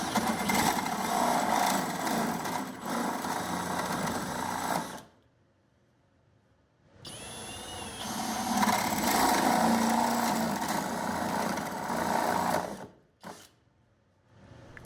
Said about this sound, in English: drilling two 1 1/8 inch holes